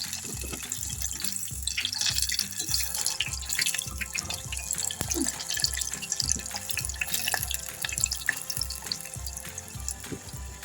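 Onion rings fry in hot oil with a steady, dense crackle and sizzle, a continuous bubbling texture that stays close and even throughout.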